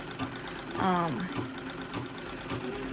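A treadle sewing machine used for leather goods runs with a moderate, rhythmic mechanical clatter and hum, close by, with a person's voice audible over it.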